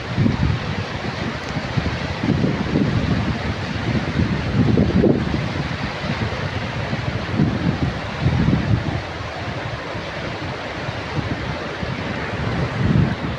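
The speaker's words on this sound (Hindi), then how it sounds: "ये पानी की आवाज़ है।" Floodwater after heavy rain rushes past in a steady, dense roar, loud and continuous with low surging swells, wind buffeting the microphone throughout.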